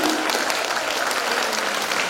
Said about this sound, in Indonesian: Tepuk tangan untuk RI